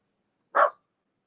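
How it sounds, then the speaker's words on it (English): A dog lets out a single short bark, fairly faint, with silence before and after it. "That's my dog Dash making an appearance"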